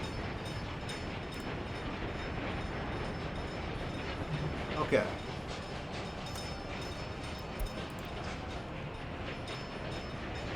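Train wheels run on rails in the video game Workers and Resources, a faint continuous rumble with soft clatter, and a voice says a single word partway through.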